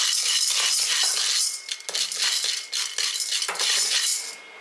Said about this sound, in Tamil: உளுந்தம்பருப்பு 1 கைப்பிடி அளவு, கடலைப்பருப்பும் 1 கைப்பிடி அளவு, ரெண்டையும் ஒன்றா சேர்த்து வதக்கிடுங்க